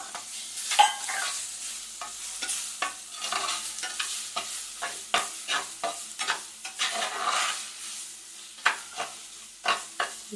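Tomato goes into a pan of frying fish curry masala with chilli powder, a soft sizzle running beneath repeated scraping stirs and clanks of a spoon against the pan, close and without talk.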